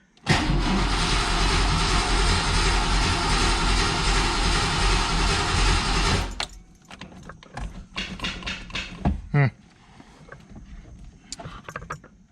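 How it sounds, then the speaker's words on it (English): A fuel pump priming before an attempt to start a balky engine: a loud, steady whirring hum running for about six seconds, then cutting off, followed by scattered clicks, clunks and faint handling noises. "Pump priming."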